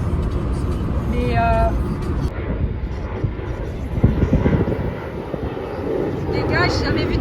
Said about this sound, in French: là il y a un avion, il vient de décoller sous mes yeux